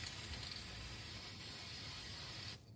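A cheap Dollar Tree aerosol spray can hisses in one long continuous burst while decorating for a Halloween festival, then cuts off abruptly near the end.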